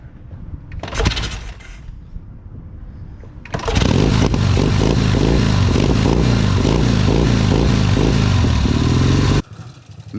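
A Norton motorcycle engine cranks with a brief clattering attempt, pauses, then catches and settles into a loud, steady, lumpy idle close by before cutting off abruptly near the end.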